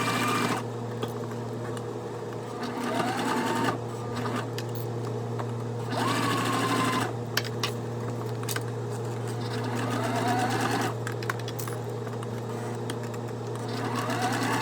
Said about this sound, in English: Now let's sew this at 1/4 of an inch